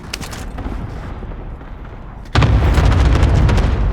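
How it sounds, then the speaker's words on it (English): Airstrike in Call of Duty Warzone during a Plunder match: a low rumbling barrage gives way to a sudden, loud, heavy booming blast that keeps roaring close by. "airstrike incoming. Take cover."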